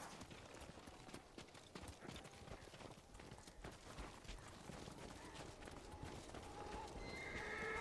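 Horse hooves clip-clop steadily while horses whinny and neigh in the video game Ghost of Tsushima, a busy continuous herd sound that grows slightly louder toward the end.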